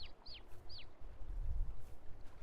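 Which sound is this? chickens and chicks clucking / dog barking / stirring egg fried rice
chickens and chicks clucking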